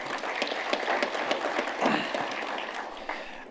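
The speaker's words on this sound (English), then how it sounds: "we can all give ourselves a round of applause." Conference audience at an agricultural congress claps for itself, a diffuse, fairly soft wash of applause from a large room that holds steady throughout.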